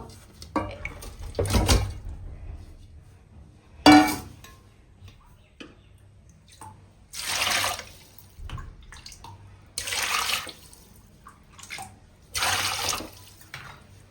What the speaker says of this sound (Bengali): এবার মাছটা আমি পরিষ্কার করে ধুয়ে নেবো।